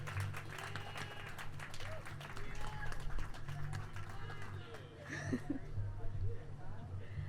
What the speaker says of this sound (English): Give another round of applause for Michael.